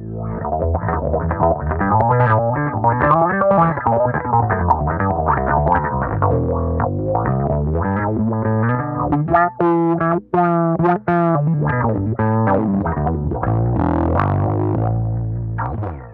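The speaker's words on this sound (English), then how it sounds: "here's a little wah-wah action for you." An Epiphone Thunderbird electric bass through a wah-wah pedal plays a line with a sweeping, vocal-like filter, steadily throughout with a few brief gaps.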